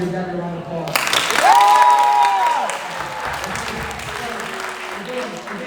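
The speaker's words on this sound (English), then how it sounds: "Everyone give Gabby a round of applause" Audience applause for a participant at a motivational speaking event begins abruptly after a second and continues steadily as a broad wash of clapping, with a voice speaking over the start.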